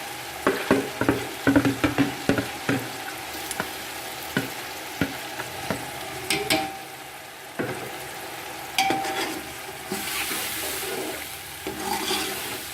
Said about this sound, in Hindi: अब इस मसाले की हम लोगों ने अच्छी तरह से भुनाई करनी है।